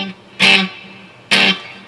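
Two short, bright electric guitar strums played direct into a Koogo loop station ring out with reverb tails, separated by a low sustained note; no voices.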